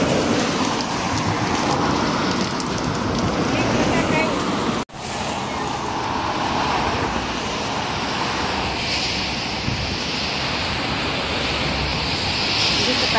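Heavy rain pours steadily and loudly close by in Beacon Heights, a dense continuous hiss with a brief cut partway through.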